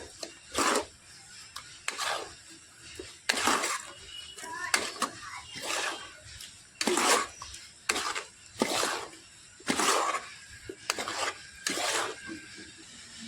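A spoon scrapes and stirs a thick carrot laddu mixture with dry fruits in a pan, giving regular raspy strokes about once a second, close and moderately loud, with no talking over them.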